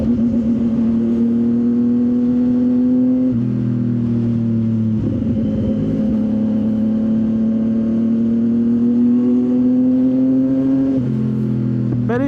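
A CFMoto 675 NK motorcycle engine drones steadily while riding, its pitch stepping down and back up with gear changes, loud and continuous under wind noise.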